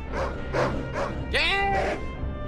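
In the game Medal of Honor: Underground, a dog barks in a run of about five close, loud yips and woofs, one rising into a whine, over a background hum with some overlapping talk.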